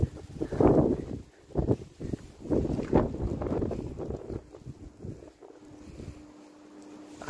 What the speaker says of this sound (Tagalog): Lakas ng hangin, tapos nag-uulan pa ng snow.